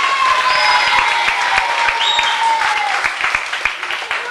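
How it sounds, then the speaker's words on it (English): Loud, sustained audience applause from a television studio crowd, steady dense clapping filling the whole stretch with a faint tone and occasional voice underneath. "Round of applause for no Edmonds."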